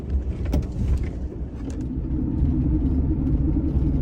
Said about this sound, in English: We're still driving.